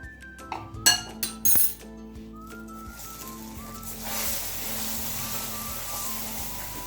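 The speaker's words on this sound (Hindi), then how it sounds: "चम्मच आपने मुसलसल चलाते रहना है ताकि चीनी फिर नीचे ज़्यादा लगे नहीं और जले नहीं" Metal spoon clinking against a pan a few times as a thick sugar mixture for Iranian Sohan Halwa is stirred, followed by a steady soft sizzle of the cooking syrup, close and moderately loud.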